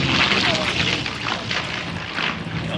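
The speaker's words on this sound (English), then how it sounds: "Beautiful airplane." An airplane roars past at an air show, a broad continuous engine rumble and rushing noise, loud and close, under an announcer's voice.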